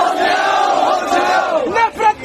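A crowd of protesters loudly shouting slogans together against Nitish Kumar and Naidu, close-up rhythmic chanting voices with a sharp rise near the end.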